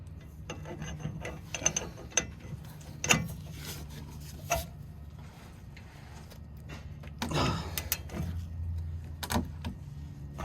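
A ratchet works a 15mm socket on the front lower motor mount of a 2008-2012 Ford Escape 3.0L V6, producing quiet clicking ratchet strokes and occasional metallic knocks against a low background hum.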